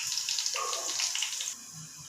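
Running tap water splashes steadily over fresh coriander and curry leaves being rinsed in a kitchen, a close, continuous wash that thins out near the end.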